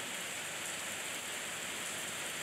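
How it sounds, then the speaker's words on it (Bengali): Steady rain falls from a dark afternoon sky in an even, unbroken hiss that stays close and constant throughout, with no voices. "সেদিন বিকেলবেলা আকাশ কালো করে বৃষ্টি এলো।"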